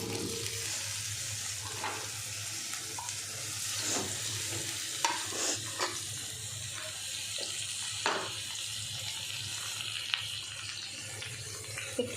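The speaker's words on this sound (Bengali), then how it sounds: "পনিরটা ভাজা হয়ে গেল, এবার আলুটা দেব। আলুটা একটু ভেজে নেব।" Potatoes frying in a pan after paneer, a steady close sizzle with intermittent stirring scrapes and clinks, no talk.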